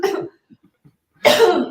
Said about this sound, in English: It's so funny. I'm coughing.